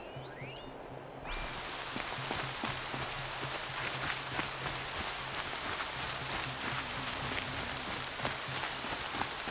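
Steady rain hisses loudly after a brief electronic chirping tone at the start, with scattered droplet taps and a low hum underneath, in the video game Horizon Zero Dawn.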